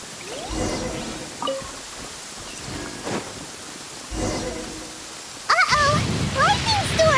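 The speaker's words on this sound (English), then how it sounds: "Uh-oh! Lightning storm!" A lightning storm in Genshin Impact, with rain hissing and thunder cracking in sudden bursts, the noise swelling loudly near the end, while someone speaks over part of it.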